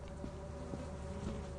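Bees in the video game Lethal Company, a steady close droning buzz with a constant hum, running without a break through the short stretch.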